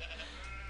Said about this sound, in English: I just like the black sheep because they're really cute.